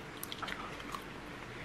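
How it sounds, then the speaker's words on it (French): Someone eats twister fries from a restaurant, chewing softly and close up with faint, moist bites and squishes at a low level, with no talk. "Première étape, on va déguster les frites de Michou."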